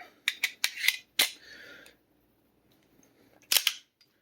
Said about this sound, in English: Rack the gun, make sure it still works.